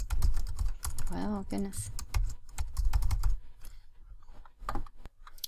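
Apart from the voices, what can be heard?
typing on a computer keyboard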